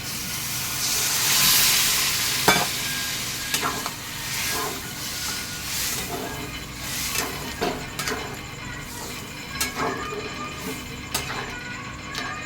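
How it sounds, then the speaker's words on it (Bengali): Water goes into chana masala spices frying in a pan, setting off a loud hissing burst that settles into a steady close sizzle, punctuated by scattered clicks of a spoon stirring against the pan. "এবার আমি এর মধ্যে জল দিয়ে দিচ্ছি।"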